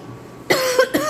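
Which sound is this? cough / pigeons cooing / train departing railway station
cough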